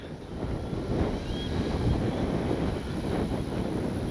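Wind at an RC airfield buffets the microphone in a steady, rough rumble with gusty swells, loud and close, with no voices.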